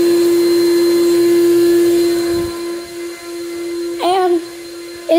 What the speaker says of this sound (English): You can kind of hear it running from here. And here's the central vac garage system. It's an Air-Vac, really powerful system.